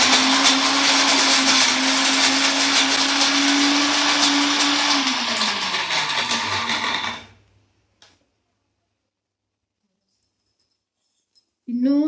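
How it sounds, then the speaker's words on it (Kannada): A kitchen mixer grinder blends dates, a loud steady whirring grind for about seven seconds with a falling motor pitch as it winds down, then near silence before a brief voice at the end. "ಸೊ ಈಗ ಮಿಕ್ಸಿ ಮಾಡೋಣ."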